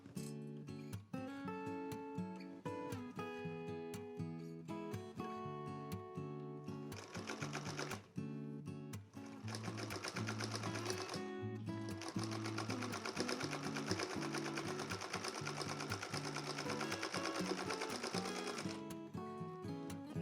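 A sewing machine stitches improv flying geese quilt blocks, its needle chattering in rapid rhythmic bursts that pause briefly and then run on longer, close and fairly quiet, with no voices.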